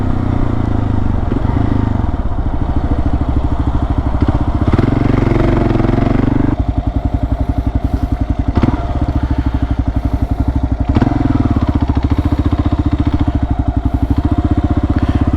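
Kawasaki KLR 650 dual-sport motorcycle on dirt tires, its single-cylinder engine thumping steadily and loud throughout the ride, with throttle rising and falling and a rough, pulsing exhaust note close to the mic.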